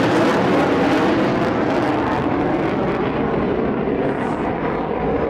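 A Eurofighter Typhoon jet at the Blackpool Air Show roars loudly and steadily overhead, a broad continuous engine rumble with no voices, easing slightly toward the end.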